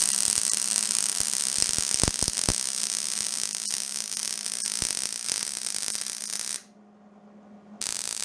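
A welding bead is run on a custom welding table, a steady loud crackling buzz with a few sharp pops that cuts out for about a second near the end before resuming.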